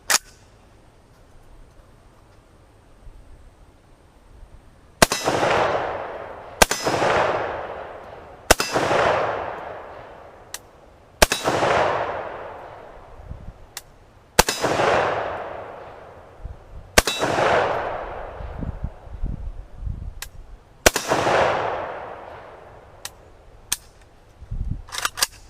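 Gunshots ringing off steel targets at an outdoor shooting range: about nine loud, sharp reports spaced a second or two apart, each followed by a metallic ring that decays slowly, with no talking.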